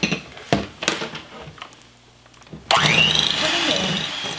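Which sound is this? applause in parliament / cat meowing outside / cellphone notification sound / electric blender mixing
electric blender mixing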